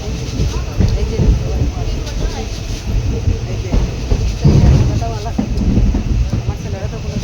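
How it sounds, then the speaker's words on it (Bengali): A passenger train rolls along after leaving Panisagar station, its steady rumble and rattling carriage noise heard from inside the car, with people talking over it throughout. "তারপরে দেখো আমরা ট্রেনে উঠে গেছি গিয়া"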